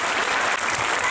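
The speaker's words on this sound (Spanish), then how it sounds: "Un aplauso." A crowd at a political party's headquarters inauguration bursts into brief, loud applause, a dense unbroken clatter of clapping with no talk over it.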